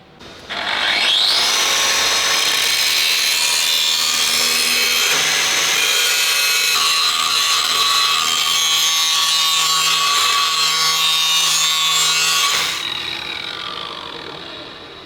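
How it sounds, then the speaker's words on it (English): A steady, loud grinding or abrasive power-tool whine beveling the edge of a steel plate for a KV-1S tank barrel repair, running continuously for about twelve seconds before tapering off. "I just need to put a bevel on this side here, just so it sits a little bit lower on this plate."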